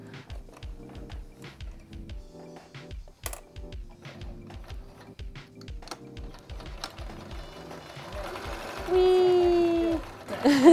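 A sewing machine stitches a zigzag seam on a purse made from old pants, running in bursts of rapid mechanical clatter with pauses, fairly close, ending in a louder sustained whir as the stitching speeds up.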